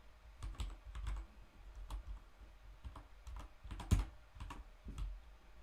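Steady clicking of a computer keyboard during coding work, irregular bursts of keystrokes with brief pauses, close but fairly quiet, with no talking.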